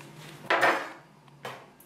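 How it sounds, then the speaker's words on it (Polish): A wet knife cuts through a maki sushi roll on a board with two distinct strokes, the first a firm scraping slice and the second a shorter, lighter cut, close and clear. "Tak przygotowaną rolkę kroimy na 8 kawałków."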